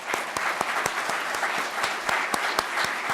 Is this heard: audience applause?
yes